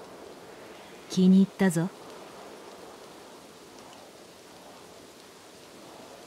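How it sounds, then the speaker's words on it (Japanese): Light rain falling in SYNDUALITY Echo of Ada, a soft, steady hiss continuing throughout, briefly overlaid by a man's short spoken line early on. "小雨になったな。"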